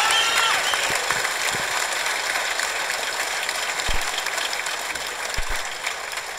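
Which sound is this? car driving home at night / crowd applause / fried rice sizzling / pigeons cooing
crowd applause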